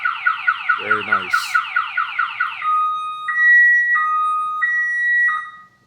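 A RAM TRX pickup's car alarm blares nearby, first a rapid warbling chirp, then a slower pattern of repeated high electronic tones pulsing in a steady rhythm.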